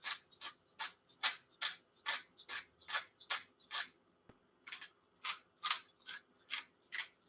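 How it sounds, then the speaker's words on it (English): Pepper grinder cracking a peppercorn medley, a close series of crisp, gritty grinding bursts in a steady rhythm, pausing briefly before several more twists. "Peppercorn medley, just like that. And yeah, it's a grinder."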